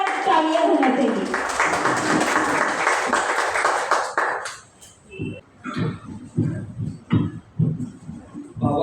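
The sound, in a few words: audience applauding Advocate Ravi Sagar Dambhare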